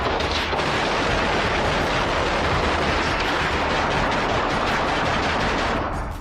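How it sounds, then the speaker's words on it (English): A suspect shooting at police officers: a dense, continuous barrage of rapid, loud gunfire that fills the whole stretch without a break, then thins out slightly at the very end. "Matthew fires again, forcing officers to take a different route"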